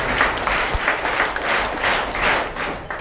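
Loud, sustained applause from an audience clapping for a team, a dense steady wash of many hands lasting the whole moment with no talk over it.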